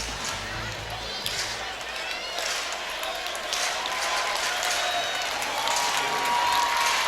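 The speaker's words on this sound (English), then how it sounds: "These are the Spartans fans cheering the team as it breaks from the timeout." Spartans basketball fans at a sectional championship game in New Castle cheer as the team breaks from a timeout, a steady dense crowd roar with scattered shouts and sneaker squeaks that swells slightly toward the end.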